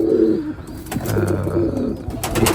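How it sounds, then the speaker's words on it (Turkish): A pigeon coos nearby in a series of soft, throaty rolling calls with brief pauses, and faint chirps sound in the background. "şu arkadaki öten kuştu daha yeni kalkan"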